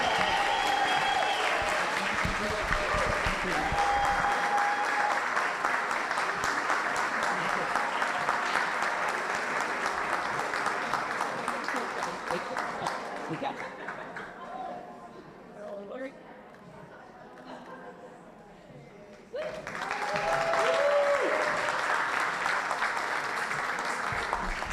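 Sustained, loud audience applause at a college reunion luncheon honoring Egan Award winners, swelling and fading midway, then surging again near the end, with voices mixed in.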